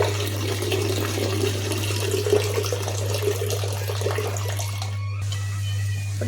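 Tap water runs steadily for soaked chana dal, a continuous close splashing stream under a low constant hum, stopping abruptly near the end.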